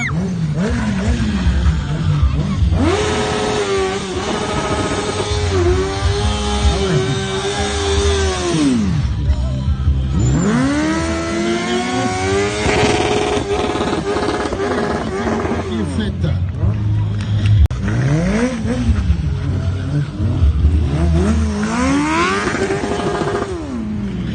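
A stunt rider's motorbike engine revs hard at a show, climbing and dropping in repeated loud, wavering sweeps over about 24 seconds with a steady low rumble beneath.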